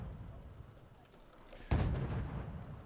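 A single heavy ATACMS missile impact rumbles in the distance in Wargame Red Dragon, a deep low boom breaking in after a quiet stretch and rolling on to the end.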